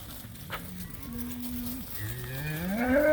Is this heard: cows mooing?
yes